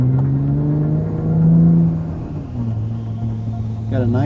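A 2020 Jeep Gladiator Rubicon with a muffler-delete exhaust heard from inside the cab with the window up, a steady low droning tone that swells briefly as the engine pulls, then settles back to a smooth hum.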